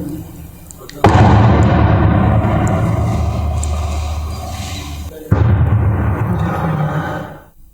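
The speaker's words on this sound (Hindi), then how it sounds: "इस वीडियो में बम धमाके और गोलियों की आवाज साफ सुनाई पड़ रही है।" Bomb blasts and gunfire during a Naxal attack in Chhattisgarh, heard as a sudden loud blast followed by sustained booming rumble, then a second heavy blast and a long rolling echo that fades.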